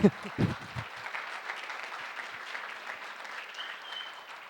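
Audience at a startup program's closing ceremony gives a brief burst of applause at the start that quickly thins into scattered claps and a low crowd murmur for the rest.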